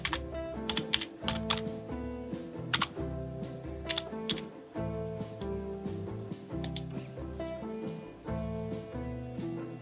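Quick bursts of keystrokes on a laptop keyboard as a search query is typed into a browser, crisp clicking taps in uneven clusters, close and fairly quiet, with no talking.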